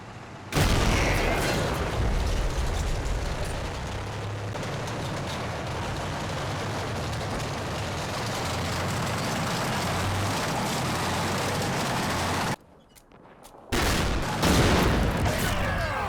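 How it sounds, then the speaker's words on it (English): Pak-43 88mm anti-tank gun firing in Combat Mission, opening with a heavy blast into a long, loud rumbling roll of battle noise that drops out briefly before another sharp report near the end. "It's a Pak-43, an 88mm anti-tank gun at the north end of Ugly."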